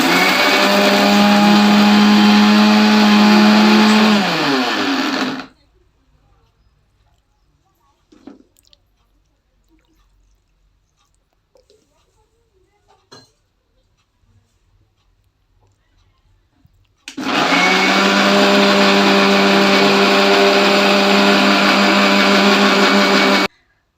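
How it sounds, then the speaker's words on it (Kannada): A kitchen mixer grinder grinds tamarind and tomato for sambar, running in two loud, steady whirring bursts. A long quiet pause with faint clicks separates the two runs. "ಇದನ್ನು ಒಂದು ರೌಂಡ್ ಮಿಕ್ಸಿಗೆ ಹಾಕೋಣ."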